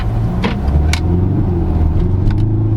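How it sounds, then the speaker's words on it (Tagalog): A 2022 Kia Sorento SX with the 2.2 engine and automatic transmission drives along, giving a steady low engine and road rumble from inside the car, with a few brief higher rustles over the hum. "So this is it, finally driving the 2022 Kia Sorento SX."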